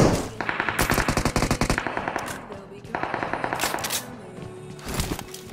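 Gunfire in a battle royale video game: loud rapid automatic bursts in several volleys with short pauses between them, crisp and close, with no talking.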